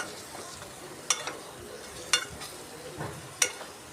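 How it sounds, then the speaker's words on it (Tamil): Spice paste for prawn curry sizzles steadily in hot oil, with a few sharp clicks of a spoon against the pan as it is stirred. "மசாலா நல்லா அந்த எண்ணெயில் வதங்கணும்."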